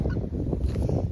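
Chickens in a garden after a hard November frost give low, throaty clucks and honking calls, close by and continuous over the short stretch.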